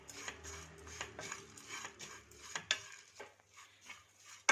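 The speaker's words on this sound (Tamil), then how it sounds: "இப்போது இந்த டைமில் எடுத்து வச்ச கொப்பரை இதை சேர்த்துட்டு லைட்டாக வறுத்துக்கோங்க" Dried coconut (copra) being lightly roasted in a pan for brinjal rice, heard as repeated scraping and tapping of a spoon or spatula against the pan with faint sizzling underneath.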